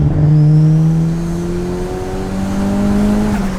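An old turbocharged Mitsubishi Lancer engine pulls hard under acceleration, its note climbing steadily in pitch with a strong, close, continuous roar and a brief dip as it shifts before rising again.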